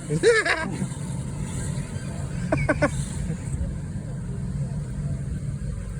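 A beginner radio-controlled toy car trundles slowly on its low-speed setting, a steady low motor hum running throughout, with brief voice sounds near the start and middle.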